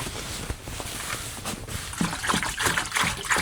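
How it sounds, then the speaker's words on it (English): Water poured from a canister at an off-grid cabin in the Finnish woods, a steady close trickle and splash lasting a few seconds, with no voices. "I just put some of the water here so that it can warm up"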